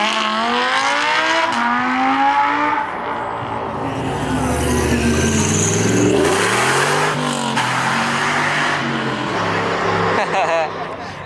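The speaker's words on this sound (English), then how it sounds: "This Audi R8 sounds pretty damn good though, so let's check it out leaving the show." A red Audi R8 pulls away from a car show with a loud, close engine that revs hard and rises in pitch through the gears, with a tire squeal and crowd noise around it.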